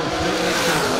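An S10 pickup and a Corvette Roadster launch side by side in a drag race, a loud, dense engine roar filling a brief moment at close range.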